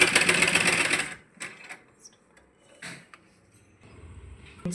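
Sewing machine stitching a 32-size blouse, running in a loud continuous burst for about a second, then falling to faint scattered clicks and brief short runs of the mechanism.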